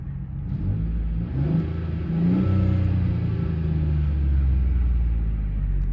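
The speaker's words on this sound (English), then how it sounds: "I want to see if you guys can hear a bit of the exhaust." A 1999 Ford Taurus V6 idles and revs, its engine and exhaust giving a steady close-up rumble that swells slightly as the revs rise, with no voices.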